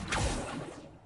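Accio summoning spell cast in Hogwarts Legacy, a single quick swooping whoosh that swells and trails off within a second.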